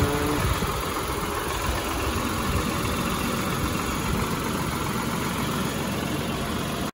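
A Tata Punch's three-cylinder 1.2-litre engine idles with the bonnet open, a steady close mechanical hum and vibration holding constant throughout.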